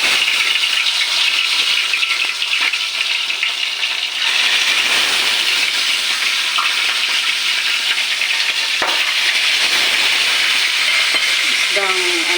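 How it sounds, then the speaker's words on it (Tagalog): Dalagang bukid fish frying in a pan, a steady loud sizzle and crackle that continues throughout with occasional pops and faint voice in the background. "Magpiprito ako ng isda,"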